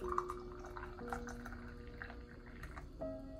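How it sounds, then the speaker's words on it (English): Hot green tea poured into a cup in a traditional Japanese ryokan, a faint steady trickle of liquid with a rising filling tone over about three seconds, soft and close. "i'm gonna put half cup of tea half cup of hot tea over here"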